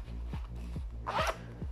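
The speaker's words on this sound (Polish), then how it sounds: "Mamy tutaj boczny suwak" Side zipper on a pocket of a Helikon-Tex flannel shirt being pulled, a close, quiet run of rhythmic zipping strokes, several short rasps in a row, with no talking.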